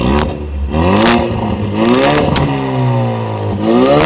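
A Ford Mustang with a 2.3-litre turbocharged EcoBoost engine revs repeatedly: several sharp throttle blips climb and fall back to a low idle, close and loud, with no voices.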